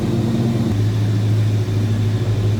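A 1986 Chevrolet K10 Silverado 4x4 pickup's 5.7-liter 350 V8 idles with a steady, low, loud rumble that settles slightly deeper partway through, running continuously with no voices.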